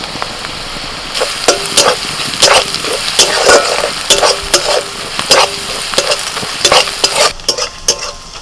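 Ginger and garlic frying in oil in a wok, a constant sizzle under regular scraping stirs of a spatula that repeat about every half second, close and loud.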